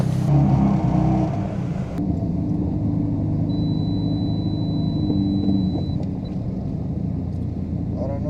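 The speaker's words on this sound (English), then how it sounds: "It does have a welded diff. Makes a lot of noise on turns" A Mazda RX-7 rumbles steadily from inside the cabin, its welded differential grinding and briefly whining high as the car moves and turns on real roads.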